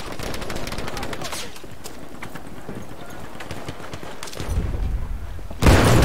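Heavy, continuous gunfire in the Battlefield V multiplayer warzone, with overlapping rapid shots and crackling bursts throughout, rising to a louder blast at the end and a voice speaking briefly over the din.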